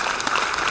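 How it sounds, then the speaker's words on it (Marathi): Sustained applause from an audience gathered at a groundbreaking ceremony for a music school building, a steady dense clatter of many hands with no gaps and no speech over it. "मी तुम्हा सगळ्यांना विनंती करेन की एकदा जोरदार टाळ्या"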